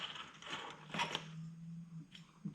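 A washer is set onto the clutch assembly of a Kawasaki H1 or H2 motorcycle, giving a few faint metallic clinks and small scraping taps at close range against a quiet workshop background.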